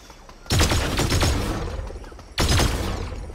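Two loud bursts from the Evochrome burst rifle in Fortnite Chapter 3 Season 4, each a quick cluster of close shots with a reverberant tail, spaced about two seconds apart.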